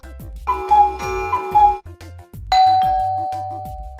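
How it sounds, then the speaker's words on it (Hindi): A doorbell chimes in two parts, a pair of tones followed by a longer ringing chime that slowly fades. "यह आखिरी वाली आवाज है बेल की।"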